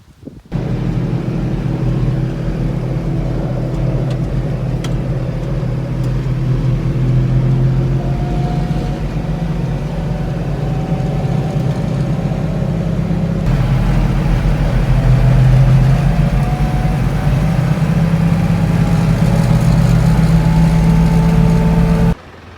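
A tractor engine running steadily while towing a small vehicle on a farm, a loud continuous low rumble with slight shifts in pitch and no talk.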